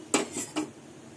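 A cooking pot of boiled red lentils being lifted off the stove, with three quick metallic clanks and scrapes of the pot against the burner, close and clear in a quiet kitchen.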